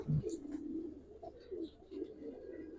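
A female Giribaz pigeon coos softly in a few low, throaty pulses, faint and close, with no talk over it.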